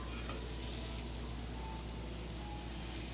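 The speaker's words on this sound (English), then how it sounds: "I'm roasting it now with the vegetables." Rice sautéing with vegetables in herbal ghee with spices, a soft continuous sizzle and a few light stirring clinks near the start, and no talking.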